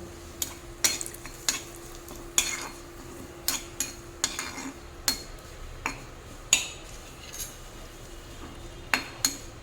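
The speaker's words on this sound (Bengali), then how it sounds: "পাতা ভাজা হয়ে গেছে, পাতার কালার চেঞ্জ হয়ে গেছে।" Leaves frying in a pan over a low flame, a soft faint sizzle under a series of sharp spatula taps and scrapes against the pan, spaced irregularly about a second apart.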